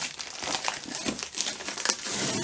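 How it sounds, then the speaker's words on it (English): Paper crinkles and rustles as wrapping is pulled out of a gift box during an unboxing, with a steady run of crisp crackling bursts close to the mic and no talking. "we're going to remove this paper here"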